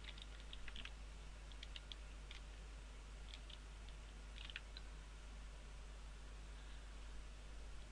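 Soft keystrokes on a computer keyboard while code is entered, sparse clicks in short bursts over a steady low hum and hiss, faint and close.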